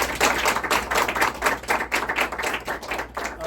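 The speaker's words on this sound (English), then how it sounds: "So, round of applause." A small audience applauds at a sales team event, a few people clapping in a quick irregular patter that holds steady for several seconds with no one speaking.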